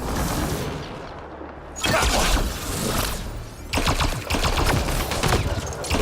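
Turret gunfire in Mass Effect Andromeda combat: sustained, dense bursts of automatic fire with heavy impacts and booms, loud and continuous throughout.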